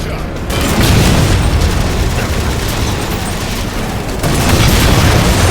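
Dense, continuous gunfire and explosions from the video game Halo: The Master Chief Collection, a loud unbroken barrage that briefly dips before resuming at full force.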